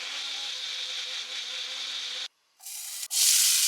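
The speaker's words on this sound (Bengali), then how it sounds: "এবার এটাকে আমি ব্লেন্ড করে নেব।" Electric blender whirring steadily as it grinds a cooked tomato paste with Kashmiri red chili powder and spices, a loud, even roar that cuts off abruptly, pauses briefly, then starts again at a higher pitch.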